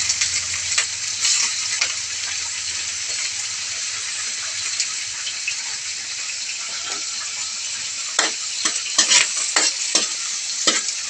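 Galunggong fish frying in hot oil, a steady loud sizzle and crackle with bursts of sharper spattering pops toward the end; no one speaks.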